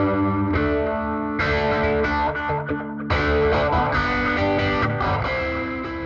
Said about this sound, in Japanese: ファズトーンじゃないオーバードライブトーンのソロを弾く時にここを使う